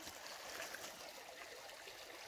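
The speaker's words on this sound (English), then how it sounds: "I'm going to do is to dip the crystals into the stream in the cloth bag" A shallow, slow river stream flows over a small shore, a steady close rushing and trickling wash that stays even throughout with no voices.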